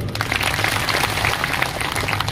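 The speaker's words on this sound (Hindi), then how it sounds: "तो मंडल अध्यक्षों के लिए ताली बजाओ जोरदार" A rally crowd at a BJP public meeting claps loudly for the mandal presidents, a dense, continuous burst of applause filling the space with no voices standing out.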